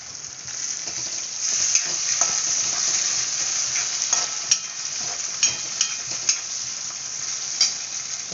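Green chillies and curry leaves frying in hot oil, a steady close sizzle with bright crackling pops and occasional stirring scrapes, alone without talk.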